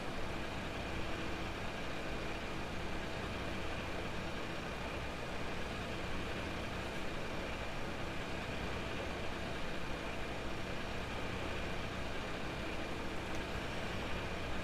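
A tractor engine in Farming Simulator 17 runs at a steady drone through the whole stretch while drilling a field, a constant, even rumble with no talk over it.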